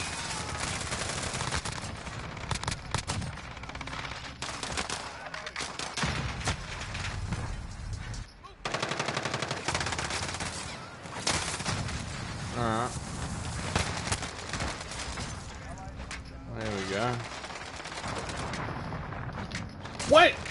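FiNN gun firing in a video game, dense rapid bursts of automatic gunfire with mechanical clatter repeating throughout, someone talking over parts of it.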